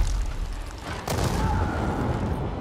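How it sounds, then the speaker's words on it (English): An explosion in the video game Dying Light 2 lands as a sudden deep boom with a rumbling tail, loud and close over ongoing game noise. "Another explosion!"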